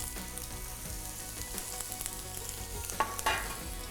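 Ginger, cumin and fenugreek seeds sizzle steadily in hot oil, a dense continuous frying hiss with a few louder crackles and spatters near the end, close and unbroken, with no talk.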